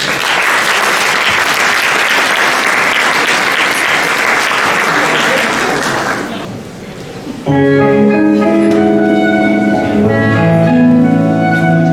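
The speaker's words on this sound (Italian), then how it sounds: "Un applauso" Audience applause at a school show, steady and dense for about six seconds, then dipping as music begins and takes over.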